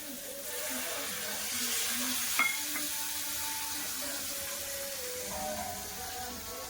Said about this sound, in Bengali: তরকারিতে জল দিয়ে দিলাম